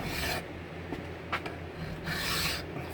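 A file rasps against wood in short scraping strokes, dry and gritty, close by, with brief pauses between passes.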